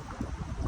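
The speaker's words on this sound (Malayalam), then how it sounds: "കാറ്റടിക്കും, നല്ല കാറ്റുണ്ട് കേട്ടോ" Strong wind blows outdoors in Taif during the Eid season, a broad rumbling gust buffeting the microphone with low roaring swells that build toward the end of a brief moment.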